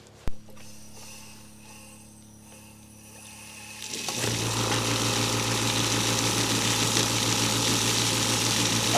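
A well is jetted with compressed air: after a quiet stretch with a single sharp knock, a loud steady hiss and rush of air and water starts about midway and keeps going, with a low droning hum underneath.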